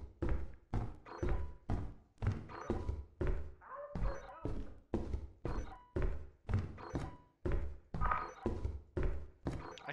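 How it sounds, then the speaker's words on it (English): Steady, rhythmic heavy thunks and thuds repeat roughly every half second inside a Lethal Company level, close and fairly loud, while faint background noise sits between them. "I hear a landmine."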